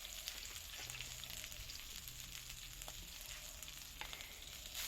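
Bean sprouts and red chili stir-frying in pork fat give a steady, close sizzle with a faint rhythmic scraping of stirring underneath, and no talking.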